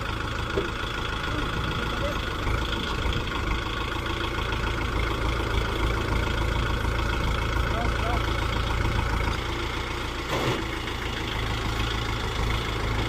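A tractor engine idles and chugs steadily at close range, a continuous mechanical drone with a brief knock partway through.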